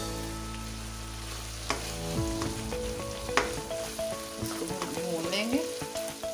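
Kasuri methi, black peppercorns and bay leaf hit hot oil for aloo keema, a close steady sizzle with clinks of a spoon against the pan, and no talk heard, while a low hum fades early on.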